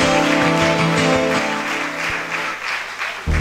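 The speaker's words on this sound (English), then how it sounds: "Please keep clapping for our sweetheart" Audience at a University of Uyo law faculty event claps steadily and loudly for a professor, a dense continuous burst of applause that fades slightly near the end.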